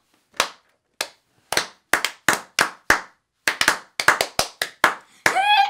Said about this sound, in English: Try clapping your hands and see if she does lights.